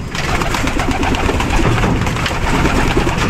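Racing pigeons coo steadily and close by before their training flight, a soft continuous burble with no talk over it.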